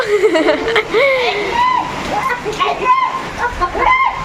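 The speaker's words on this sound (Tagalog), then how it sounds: "inabot na kami ng malakas na ulan" Heavy rain pours down in a constant, dense wash of noise while people talk loudly over it.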